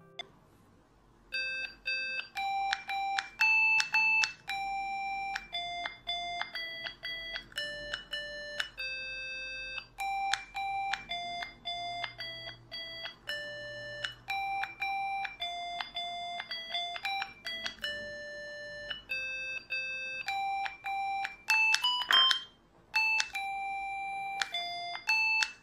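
A sequence of bright electronic beeps from an Arduino plays Twinkle Twinkle Little Star, with steady single-pitch notes in a clear, even rhythm.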